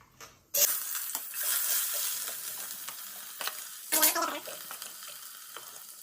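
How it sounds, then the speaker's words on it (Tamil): Chopped onions drop into very hot oil in a pan for a curry, bursting into a loud sizzle that settles into steady frying, with a second louder crackle of spatter partway through. "இந்த வெங்காயத்தை தூக்கி உள்ள போடணும். ரொம்ப ஹீட்டாக இருக்குங்கிறதுனால தெரிச்சிடும்."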